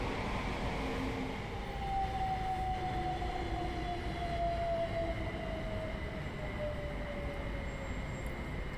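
Trains passing East Croydon station in a train simulator game: a steady rolling rumble with a long, slowly falling whine, moderately loud and continuous, with no voices.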